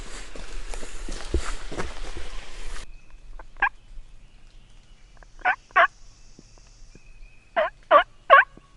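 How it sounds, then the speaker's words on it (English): Distant wild turkey on Alabama public land gobbles in short, sharp bursts: one single, then a pair, then a rapid cluster of three, heard across a quiet woodland after a stretch of close rustling footsteps. "That really sounded like a gobble."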